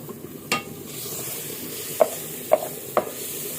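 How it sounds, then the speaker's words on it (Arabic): Peas simmer with meat in a pot, a soft continuous bubbling sizzle with a few light clinks of a spoon stirring, close and quiet, with no voices. "البسله اهي وهي بتغلي مع اللحمه"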